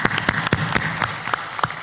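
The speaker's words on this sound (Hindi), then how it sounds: "ताली बजा दो ऊपर ऊपर।" A handful of sparse, separate hand claps from a crowd at a Hindi spiritual discourse, uneven and scattered rather than a full ovation, close and fairly faint.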